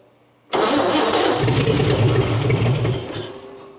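A Pontiac car engine cranks and tries to start after sitting, a loud, close, steady churning roar that runs about three seconds before fading.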